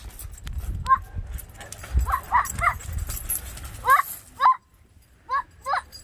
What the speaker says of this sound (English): Hey, doggy, play nice with the other doggies.